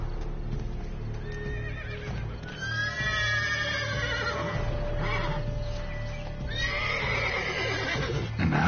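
A horse in The Witcher 3 video game whinnies and neighs repeatedly over steady clip-clopping hooves, with loud, close calls layered above a continuous game background.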